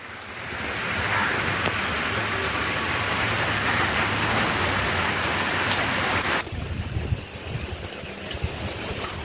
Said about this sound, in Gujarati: તો આમ તડકું છે ને વરસાદ આવે